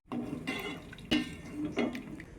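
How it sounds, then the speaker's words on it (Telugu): Water poured into a pot of Nellore-style mango fish curry, splashing in a few short bursts with brief pauses between, close and fairly quiet. "ఇప్పుడు మనం ఇంకాస్త నీళ్ళు పోసుకుందాం"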